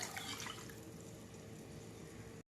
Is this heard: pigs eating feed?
no